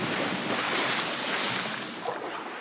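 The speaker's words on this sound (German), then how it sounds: "Und ich springe einfach mal ins Wasser." Broad, rushing water noise as a character plunges into the water in Assassin's Creed 3, a loud, steady wash of splash and surf that eases slightly toward the end.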